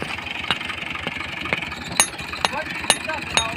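A tractor engine idles in a rural farm setting, a steady low chugging hum with periodic sharp knocks and clanks, heard beneath people talking.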